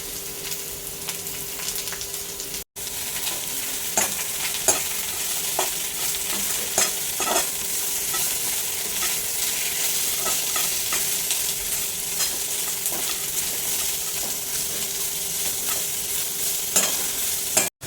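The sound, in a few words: onions and curry leaves sautéing in pan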